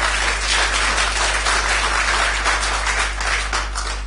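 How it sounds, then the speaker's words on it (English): Sustained applause from a council meeting audience, a steady wash of many hands clapping over a low constant hum, no talking. "sorry, I wasn't planning to pause for applause"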